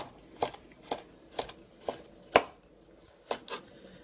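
A knife slices food thinly on a cutting board, six or seven crisp taps about half a second apart, close and clear with no talking.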